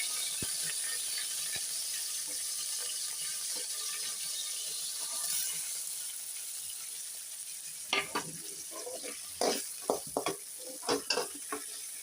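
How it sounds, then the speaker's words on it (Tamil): Coconut and spices roast in a pan for erissery, giving a steady low sizzle with scattered scraping and stirring clatters of a utensil against the pan that grow more frequent toward the end. "இப்போ வந்து பொன்னிறமாக வறுபட்டுருச்சு பாருங்கள்"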